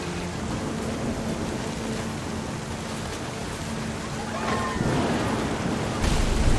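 Steady rain pours through a thunderstorm in the game What Remains of Edith Finch, with low rumbling that swells louder near the end, a dense continuous wash of downpour and thunder.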